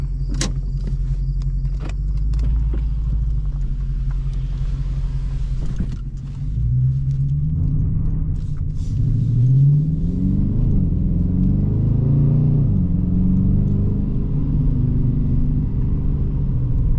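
A Dodge Challenger R/T V8 engine idles with a low rumble, then revs and accelerates with a deep throaty roar that rises and falls, close and loud.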